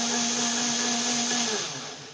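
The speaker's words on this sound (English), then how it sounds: "This is a smoothie mixer, work very well." A smoothie blender used to mix active material for a supercapacitor runs loud and steady, its motor whine holding constant before easing slightly near the end, with no voices.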